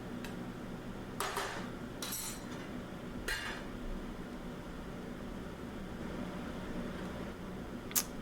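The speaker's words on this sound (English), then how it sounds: "We're going to replace the lid." Metal lid clinking back onto a cooking pot of string beans and potatoes, a few short clatters near the start followed by one sharp tap near the end, set against a steady low kitchen hum.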